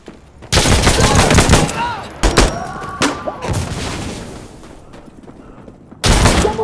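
Automatic rifle bursts and single shots crack loudly and close in the shooter game Insurgency: Sandstorm, in several rapid volleys separated by short gaps, with players briefly talking between them.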